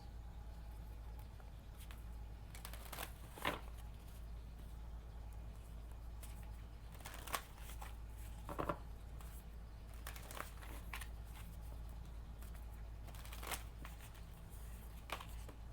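Tarot cards being shuffled by hand, soft papery riffles and slaps coming in short bursts every few seconds over a quiet, steady low hum, close but faint, with no talking.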